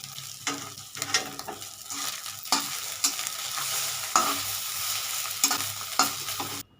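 Egg frying in oil in a kadai: a steady close sizzle runs throughout, broken by repeated scraping stirs of a spatula against the pan at irregular intervals, with no voices.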